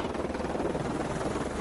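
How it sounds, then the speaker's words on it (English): A helicopter hovers behind a film crew on a location shoot for The Hobbit, a steady broadband rotor roar with a faint pulsing texture, continuous and fairly close. "There's a chopper behind me, isn't there?"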